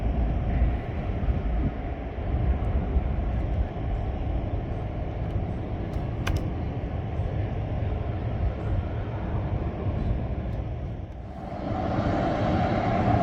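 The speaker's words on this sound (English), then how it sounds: "737-700 arriving from Dallas" A Southwest Boeing 737-700 airliner arriving from Dallas at Milwaukee, a steady broad engine roar heard from a distance that holds for the whole stretch and swells slightly near the end, with no voices.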